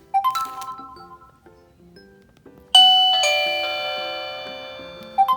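Annke wireless video doorbell chime ringing, a loud melodic multi-note ding-dong tune that sustains and slowly fades, preceded and followed by softer chime tones, close by in a quiet room.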